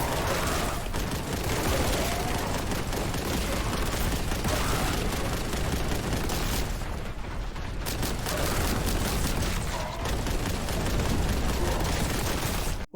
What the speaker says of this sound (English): Boltgun is in reference to the titular weapon, also known as the bolter. It may look like an assault rifle with a heart condition, but it fires explosive rounds